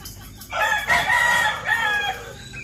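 A rooster crows once, loud and close, in a yard of newly kept chickens nearing laying age; a single drawn-out crow rises and falls over about two seconds, with no talking.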